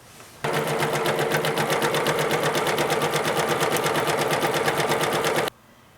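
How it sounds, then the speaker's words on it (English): A sewing machine runs a zigzag stitch along the edge of a fitted baby crib sheet, starting abruptly and whirring at a steady, rapid rhythmic pace for about five seconds before stopping. "just run a simple zigzag stitch all around the outside edge of the sheet"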